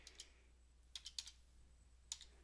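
A computer keyboard is typed on in a few quiet, sparse clicks, small taps in short clusters against a faint steady hum in a quiet room.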